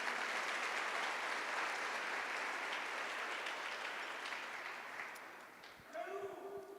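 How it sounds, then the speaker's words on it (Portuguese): A church congregation applauding together, sustained dense clapping that fills the room and then thins out as a voice begins speaking. "Você pode aplaudir o Senhor nessa noite?"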